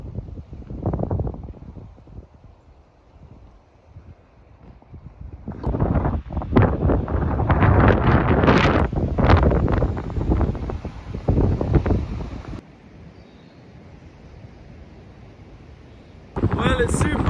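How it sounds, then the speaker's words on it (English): Heavy wind buffets the microphone in loud rumbling gusts near Meadfoot Beach, Torquay, with a calmer stretch near the end before another strong blast. "Well, it's super windy."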